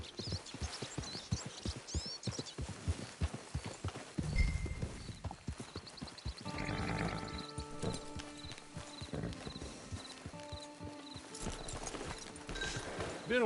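Horse hooves clip-clopping near a camp with a hitching post, a steady run of hoof knocks at close range, then a louder passage with a horse snorting and shifting while harness and tack clink and rattle.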